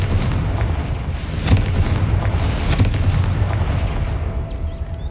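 Booming blast from a Confringo spell in Hogwarts Legacy, two heavy explosive thumps over a rumbling, noisy background, loud and close with a few faint higher whooshes.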